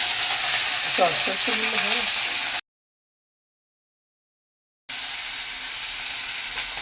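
Chopped cabbage is stirred in a kadai with meat, onion, beetroot, egg and spices for chicken momo filling, giving a steady sizzle and frying hiss broken by a gap of silence, with a brief voice early on.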